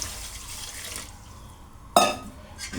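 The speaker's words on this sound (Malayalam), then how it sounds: "എന്നിട്ട് നമുക്ക് ആവശ്യത്തിന് കുറച്ച് വെള്ളം കൂടെ നമുക്ക് ഒഴിക്കും." Water poured into sugar to make syrup, a short splashing gush near the end following a quiet, hissy stretch.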